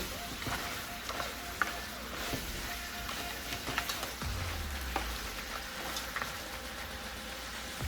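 Shrimp cook in a spicy seafood ayamase stew over medium heat, giving a soft, even sizzle and bubbling with scattered light pops and a low rumble partway through.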